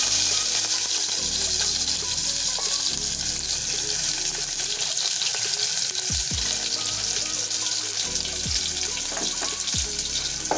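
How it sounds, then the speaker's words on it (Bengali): Chopped onions fry in hot oil for a Sonali chicken dish, giving a loud, continuous sizzle and crackle, with a few light clinks of utensils and no talking. "এখন আমি এই তেলে পেঁয়াজ কুচি ছেড়ে দিব।"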